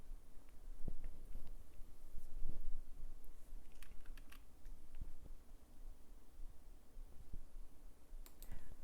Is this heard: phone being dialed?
no